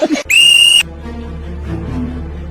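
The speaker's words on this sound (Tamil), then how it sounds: "விசில்னதும் விசில கொண்டு வந்துட்டீங்க" A loud, shrill whistle blast lasting about half a second, preceded by a brief burst of noise and followed by a low murmur of background sound.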